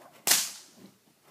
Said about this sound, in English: Keep cracking that whip.